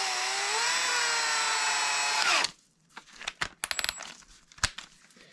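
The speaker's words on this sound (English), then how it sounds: "I am going to put this brass brush into my drill." A power drill spins a brass wire brush while cleaning an AR-15 bolt carrier group, whining loudly and steadily for over two seconds before winding down. A few sharp metallic clinks and taps of parts being handled follow.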